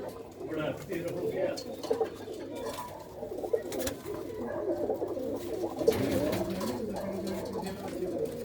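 Pigeons coo steadily in a loft of prize racing birds in Punjab, soft overlapping calls running throughout with people talking nearby.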